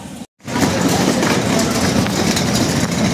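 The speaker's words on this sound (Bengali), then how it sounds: "এই ট্রেনে আসছি" A passenger train running from Dewanganj to Dhaka makes a steady, loud rolling rumble with a broad hiss. It cuts out briefly near the start, then carries on continuously to the end.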